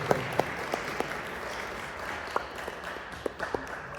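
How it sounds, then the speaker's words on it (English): A crowd applauds at a Dalit History Month celebration. Steady, fairly distant applause runs throughout, with a few sharper nearby claps standing out above the wash. "I would like to have a huge round of applause for all the members"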